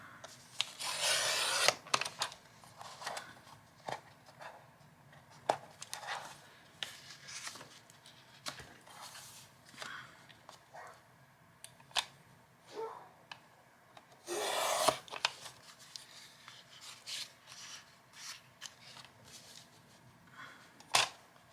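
Paper being trimmed for a handmade nursing journal, with soft scraping, rubbing and snipping sounds scattered irregularly over a quiet room, a few louder bursts standing out, no talking.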